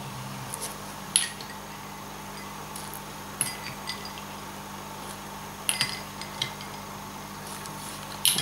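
Buko tart dough being mixed with ice cold water in a bowl, giving scattered light clinks and soft scraping taps at irregular intervals over a quiet steady hum.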